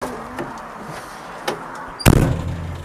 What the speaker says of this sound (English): get that door shut